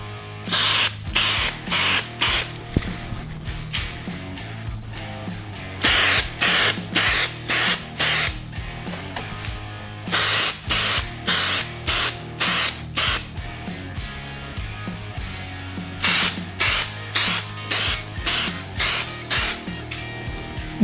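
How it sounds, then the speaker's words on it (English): An aerosol can of spray adhesive coats a motorcycle seat pan for a 1989 Suzuki RM250 in a series of short hissing bursts, loud and close, repeated steadily with brief pauses between them. "And we're gonna spray the pan in the same locations."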